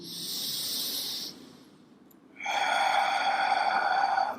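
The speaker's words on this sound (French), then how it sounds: "tu vas commencer à approfondir les respirations" Deep breathing during a yoga class: a long breathy inhale lasting over a second, a pause, then a fuller, louder exhale lasting about two seconds, close and with no speech.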